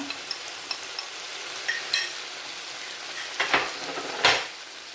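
Chicken with spices, coriander, cumin and garam masala sizzles and fries on a tawa, a steady close hiss broken by scraping stirs and a few louder clatters of the spatula.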